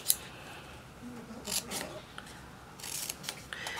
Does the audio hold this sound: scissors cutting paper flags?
yes